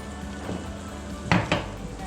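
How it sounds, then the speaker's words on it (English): A large red pepper and two garlic cloves sautéing in a pan, giving a steady low sizzle with a couple of brief clinks or stirs of a utensil against the pan near the end, with no talking. "Go ahead and saute that."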